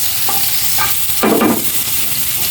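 Onion sautéing in a pan, a steady background sizzle broken by a few short scraping stirs, the loudest stroke coming near the middle, heard close with no talking.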